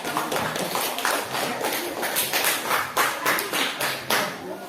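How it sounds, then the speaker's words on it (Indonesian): Students in a classroom clap together in a steady run of sharp, fairly close claps lasting several seconds, with no talk over them. "Kita tepuk tangan dulu"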